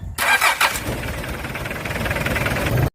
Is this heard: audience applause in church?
no